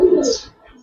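A single short, close coo comes from a Giribaz pigeon, a low throaty burble that fades within a second.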